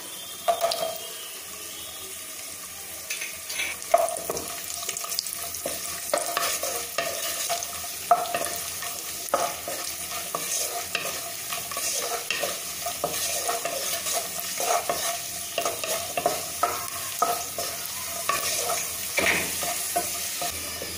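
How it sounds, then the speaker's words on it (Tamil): Cashews and raisins frying in ghee in a pan while being stirred, with a steady close sizzle and scraping, clinking stirring strokes throughout, no voices. "முந்திரி பருப்பு வந்து பாதி வறுபட்டதும் நம்ம திராட்சையை சேர்த்துக்கலாம்."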